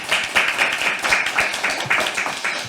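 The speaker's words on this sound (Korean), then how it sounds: "큰 박수 부탁드립니다." Loud, close applause from an audience at a Korean political gathering as a lawmaker is introduced for congratulatory remarks, with many hands clapping in a pulsing, slightly rhythmic pattern throughout.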